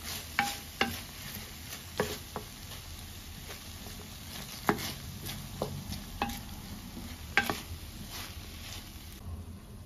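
Steady sizzling of onions frying in butter in a pan, with occasional clinks and stirring scrapes over a continuous crackling hiss.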